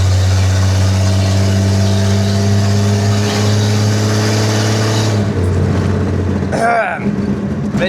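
A 1948 Chevy engine with a new throttle cable runs close by as a loud, steady drone. Its tone shifts partway through, and a faint sweep follows near the end.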